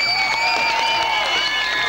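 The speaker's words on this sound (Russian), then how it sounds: "буря аплодисментов, овации нашим гостям, севастопольцам" A concert audience in Krasnodar applauds and cheers at the close of a 1997 Black Sea Fleet Ensemble show, with dense clapping and crowd noise blending with sustained musical tones.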